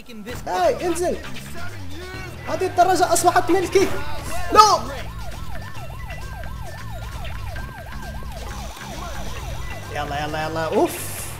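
Police siren from the video game Bully wails in a steady rising-and-falling cycle, loud and mid-distance, with excited talk over the start and end.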